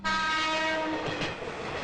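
A loud train horn blares briefly up close, then fades into the rumble and clatter of a passing train.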